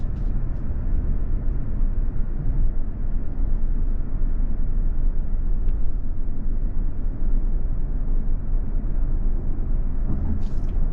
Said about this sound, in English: now we're on some new tarmac, and I'll just shut up and you can just listen how quiet this car is